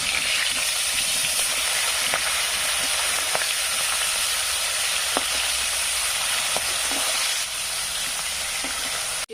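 Steady hiss of fish frying in hot mustard oil, with scattered pops and occasional faint clinks of a utensil, continuous from start to finish.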